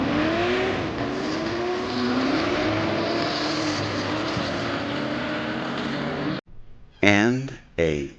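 Drift cars race at Firebird Motorsports Park, a dense continuous roar of engines and squealing tires filling most of the stretch before cutting out abruptly, followed by a voice speaking briefly.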